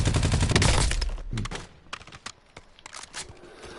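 Heavy gunfire in Warzone hitting the player, loud dense shots at the start followed by scattered sharp cracks and thuds, with keyboard clicks underneath.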